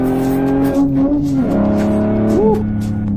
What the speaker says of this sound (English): And you're turning and you downshift. You see, it starts sliding.